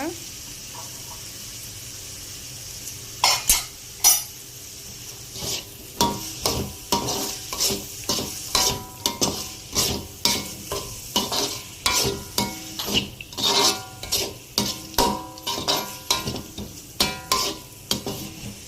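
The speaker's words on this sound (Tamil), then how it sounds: "கொஞ்சம் வதங்கினோன்னா பட்டாணி சேர்த்துக்கோங்க." Peas sautéing for rava kichadi, a spoon scraping the pan in quick regular strokes over a gentle sizzle, close and rhythmic, with faint voices now and then.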